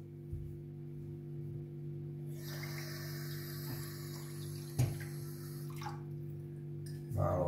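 Water pours for a few seconds as a soft, steady rush over a low background hum. It is faint and close, followed by small clinks.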